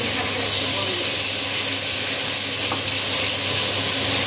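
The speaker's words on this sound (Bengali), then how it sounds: "আলুটা ভেজে নেবে" Potatoes frying in a pan with no tempering spices, for a small-fish curry cooked in a home kitchen: a steady, dense sizzle holds evenly and close throughout, with no pauses.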